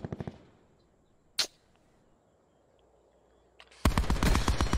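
Gunfire in the video game Call of Duty: Black Ops 4: a short rapid burst opens the clip, a single sharp shot follows after a pause, and a loud sustained automatic burst closes it.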